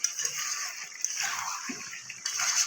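Hot water poured into a pan of chicken kosha curry, a steady splashing and sloshing pour at close range, no speech.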